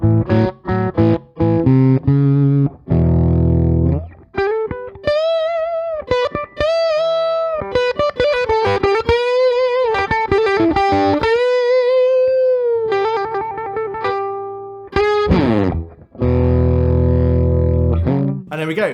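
Overdriven electric guitar through a non-master-volume amp with the neck pickup tone rolled back, playing choppy chords followed by sustained, singing lead lines, then more chords, loud and up front with no talking.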